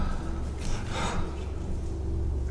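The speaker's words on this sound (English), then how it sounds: "someone breathing" Someone breathes close by in a ghostly setting, a short sharp intake of breath like a gasp around the middle of the moment, over a low steady hum.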